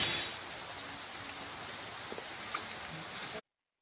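Steady rain falls on a tea garden during outdoor work, a continuous hiss with a few faint drips and knocks, moderately close, ending abruptly.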